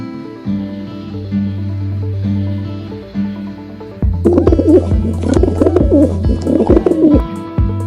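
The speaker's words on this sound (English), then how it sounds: "Pigeon." Pigeon cooing in repeated soft, throaty rolling calls, low and close, over a steady musical backing with no talk.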